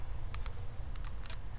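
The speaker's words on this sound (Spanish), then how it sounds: "Nomás se oye que le hace clic el relay, pero no enciende." A television relay clicks several times as the set tries and fails to power on. The relay is soldered back in after being desoldered to simulate a faulty part. The sharp, faint clicks are spaced irregularly over a steady low hum.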